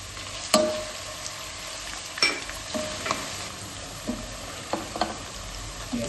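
Onions sizzle steadily in a hot pan, a constant close frying hiss broken by a few sharp clinks and scrapes of a spoon stirring, with no talking.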